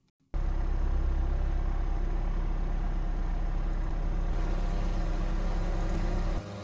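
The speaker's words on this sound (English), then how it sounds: "That's our aeroplane engine" Airplane engine heard from inside the cabin, a loud, steady low rumble that starts abruptly and holds evenly before dropping off at the end.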